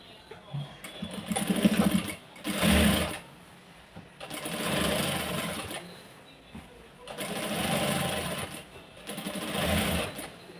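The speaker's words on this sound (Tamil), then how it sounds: "இந்த எட்ஜஸ்ஸாக ஸ்டிச்சஸ் போட்டுக்கிட்டே வரேன்" Sewing machine running in repeated bursts while stitching the edge of a saree, each whirring run lasting a second or two with short pauses between, close and steady with some faint background talk.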